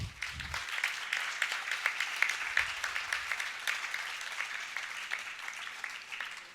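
An audience at a music and arts festival award function claps for a Carnatic musician, a steady, moderately distant round of applause lasting several seconds with no talk over it.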